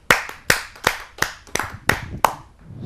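Clapping at a Hindi kavi sammelan poetry gathering: seven separate sharp, loud claps spaced about a third of a second apart in a steady rhythm, with nothing else heard between them.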